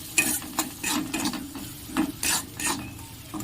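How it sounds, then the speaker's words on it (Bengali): A spatula scrapes and stirs chili powder and turmeric powder in a pan for a potato chop filling, making repeated short scraping strokes close by with a faint sizzle underneath. "ভালো করে নেড়ে নেবো।"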